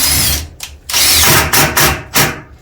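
A power drill drives a screw into wood while fitting out a skoolie bus conversion, a few close, loud whirring bursts starting and stopping in quick succession with short pauses between them.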